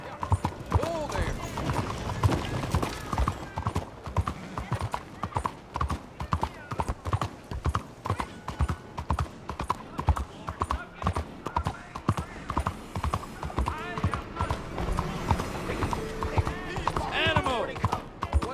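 Horse hooves clip-clop steadily in Red Dead Redemption 2, a quick continuous rhythm running the whole way under game music and occasional speech, with a brief whinny.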